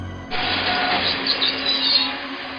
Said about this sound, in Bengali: ট্রেনটা ধীরে ধীরে স্টেশনের দিকে এগিয়ে আসছে